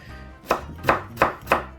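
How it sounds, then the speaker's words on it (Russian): A knife chops eggplant into sticks on a cutting board in a home kitchen, four crisp evenly spaced strokes, close and clear with no talk. "Мы, наверное, с вами сейчас будем резать брусочками, так как у нас баклажаны будут нарезаны пластиночками."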